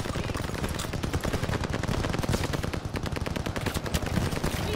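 Sustained machine gun fire from a battlefield firefight in the video game Call of Duty Vanguard, dense rapid bursts rattling continuously and loud throughout with no pauses.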